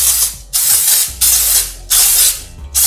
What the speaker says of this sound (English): I have some extra virgin olive oil spray. I'm just gonna spray the top of it,